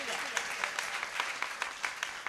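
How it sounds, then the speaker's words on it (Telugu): A church congregation at a Sunday worship service claps in a brisk, uneven burst of many hands that sounds moderately loud and close, with a voice speaking over the clapping. "నిద్రపోతున్న వారి కొరకు మీరు గట్టిగా చప్పట్లు కొట్టండి"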